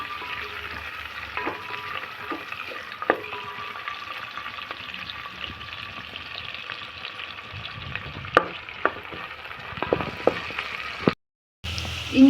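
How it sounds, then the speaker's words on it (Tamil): Mushroom masala with green chili sautéing in a pan until golden, a soft steady sizzle broken by scattered scrapes and clicks of a stirring spoon, with a brief dropout near the end. "நல்லா பொன்னிறமாக வர வரைக்கும் வதக்கோங்க"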